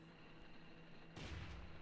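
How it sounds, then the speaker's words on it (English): A sudden explosion boom bursts in partway through, opening a mystery video game set in a snowy Icicle Creek story, rumbling low and loud over a steady droning game background before fading. "That explosion is always such an out-of-pocket way to start this game."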